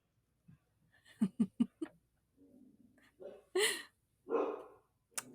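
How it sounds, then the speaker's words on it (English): Small dogs barking indoors, a quick burst of three or four sharp yaps followed by a few scattered louder barks, with a voice murmuring briefly in between. "my dogs are barking"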